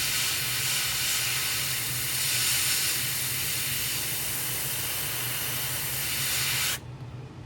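An airbrush gun sprays paint onto a crawfish fishing lure, giving a steady, close, continuous hiss that runs unbroken for about seven seconds and then cuts off.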